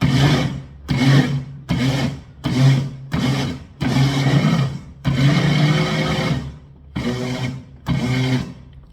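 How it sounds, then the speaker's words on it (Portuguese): A kitchen blender pulses in eight short bursts while mixing flour into carrot cake batter, each whir about half a second to a second with brief pauses between, loud and close with no talk. "Vai utilizando o pulsar do seu liquidificador para não bater demais."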